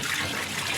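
Water runs and splashes in a kitchen as the rinse water is changed while washing taro, a brief, close, continuous trickling and gushing with no voices.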